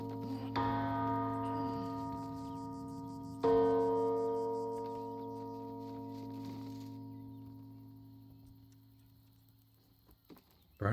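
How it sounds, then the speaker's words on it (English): A belfry bell in the video game Baldur's Gate 3 is struck twice, each loud clang ringing out with a long, slowly fading metallic hum, the second strike a few seconds after the first. "Do I ring the bell? I'm gonna ring the bell."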